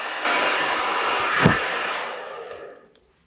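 A hair dryer blow-dries a man's hair in a barbershop, a loud steady rushing blast that wavers as it moves and then cuts off abruptly near the end.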